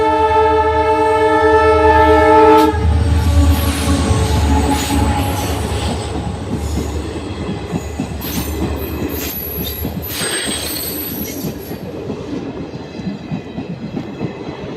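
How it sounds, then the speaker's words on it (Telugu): A loud, sustained train horn blares at the start, then the train rumbles past with rhythmic clattering wheels and a high metallic squeal. "ట్రైన్ వస్తుంది ఫ్రెండ్స్"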